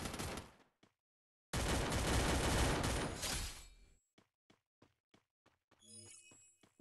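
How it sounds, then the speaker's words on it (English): Weapon gunfire in the mobile shooter Garena Free Fire Max rings out as a long loud burst, then a string of sharp single shots evenly spaced, ending with a brief clattering game effect. "Fire your weapon now!"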